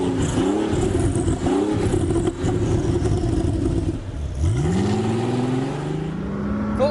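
A powerful twin-turbo W12 Volkswagen sports car engine revs loudly and close on a former airfield, with rising pitch sweeps as it accelerates, then drops and climbs again.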